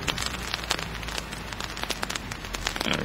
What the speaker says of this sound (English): It's a rainy fall Saturday